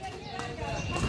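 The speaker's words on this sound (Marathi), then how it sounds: "घोडा गाडी मध्ये फर्स्ट टाइम बसलोय" A horse-drawn cart rolls through Jejuri as the horse's hooves clip-clop in a steady rhythm beneath continuous road noise, with voices murmuring in the background throughout.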